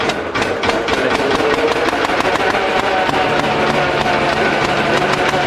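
A boat engine drones steadily and loudly throughout, a constant low mechanical rumble with a faint rhythmic knock.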